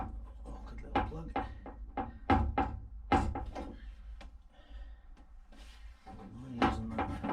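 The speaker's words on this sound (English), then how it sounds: "I'll try and disconnect this awkward little plug." Fiddling with a small electrical plug inside the door of a Peugeot 205 GTi Mi16, a series of close plastic clicks, knocks and rubbing sounds in irregular bursts, with someone talking in between.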